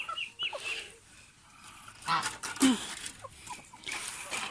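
Chickens cluck softly nearby in the evening, with short scattered calls over quiet outdoor background noise.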